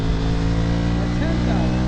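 The engine of a 2015 Ducati Scrambler motorcycle drones loud and steady at high revs near the rev limiter, holding a constant buzzing tone close by.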